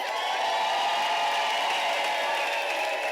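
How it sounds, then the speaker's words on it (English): Steady, dense applause from a large crowd at a university graduation ceremony, loud and continuous throughout. "Can I request you to give them a round of applause?"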